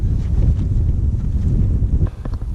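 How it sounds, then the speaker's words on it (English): Strong wind buffets the microphone on an open airfield at a UK hang gliding school, a loud, continuous low rumble that fluctuates in gusts, with no speech. "Because of the windy conditions here today on the airfield"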